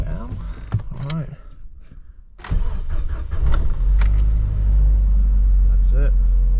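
A UAZ Bukhanka van's engine cranks and catches at about 2.5 seconds, then settles into a loud, steady idle rumble. A voice speaks briefly before it starts.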